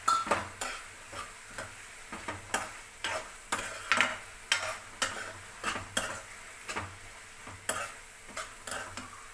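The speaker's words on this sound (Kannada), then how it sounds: "ಇದನ್ನೆಲ್ಲ ಹಾಕ್ಕೊಂಡು ಚೆನ್ನಾಗಿ ಮಿಕ್ಸ್ ಮಾಡ್ಕೊಳ್ಳಿ." Ash gourd halwa being mixed in a pan with fried raisins, cashews and almonds, a steady run of soft spoon scrapes and taps against the vessel, roughly two a second, close by with no talk.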